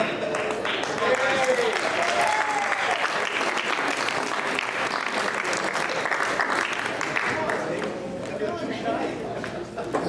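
A dinner audience claps steadily for a group of volunteers, loud and sustained applause with cheers and crowd chatter mixed in throughout.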